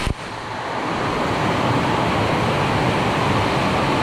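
Heavy rain pouring at night over an outdoor cockatiel aviary, a dense, steady roar of broadband noise that swells in after a brief start and continues unbroken and close.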